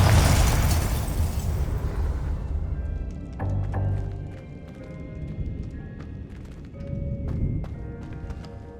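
Confringo fire spell explosion in the Hogwarts Legacy video game: a loud, broad blast at the start that rumbles and fades over a couple of seconds, followed by quieter game effects, thuds and chimes.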